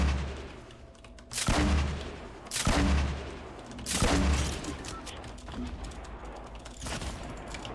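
Grenade launcher explosions in the Fortnite video game, three heavy booming blasts spaced about a second and a half apart, loud and close, followed by a lingering rumble and faint clatter.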